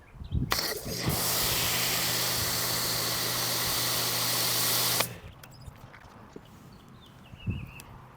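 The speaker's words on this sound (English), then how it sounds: "Just foam it on, see how it reacts." A foam sprayer coats a car with pH-neutral soap in a loud, continuous hiss lasting about four seconds. Quieter handling noises and faint sprays follow.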